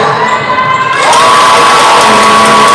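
Basketball team bench and crowd cheering loudly at a championship game, a sustained roar of shouting voices and whoops that swells after a moment and holds steady.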